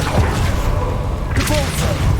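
Spell explosion from the Bombarda charm in the video game Hogwarts Legacy, a dull boom and thud with a whooshing burst midway, set in a busy, continuous layer of game combat noise.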